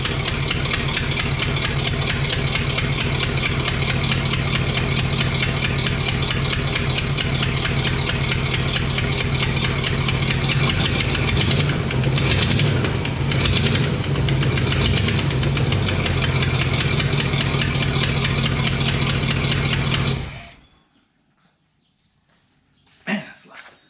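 Engine of a newly acquired project vehicle running loudly with a steady knocking idle for about twenty seconds, then cutting off abruptly, followed by near silence and a brief faint sound.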